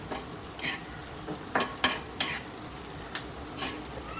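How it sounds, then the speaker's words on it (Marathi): Onion frying in a pan for a village-style spicy chicken curry, a soft steady sizzle under repeated scraping strokes of a spoon stirring, close and fairly quiet, no voices. "मी हे असं छानपैकी भाजून घ्यायचा कांदा अजून तो शिजला पाहिजे"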